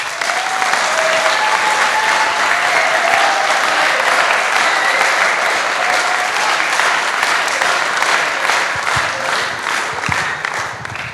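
Loud, sustained applause from a crowd at a youth camp concert service, dense clapping holding steady throughout and easing only slightly at the end.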